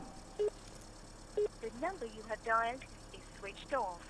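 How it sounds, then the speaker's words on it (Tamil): Mobile phone keypad tones beep in short separate presses, followed by a man's speech-like voice over a faint steady hum. "உங்கள் செல்லில் கால் பண்ணுங்க."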